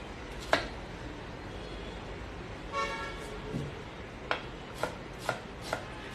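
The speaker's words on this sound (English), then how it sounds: "So I'm going to be just chopping this onion." Knife strikes on a cutting board while an onion is chopped, about six sharp separate chops spaced unevenly, close and fairly quiet, with a brief tonal scrape midway.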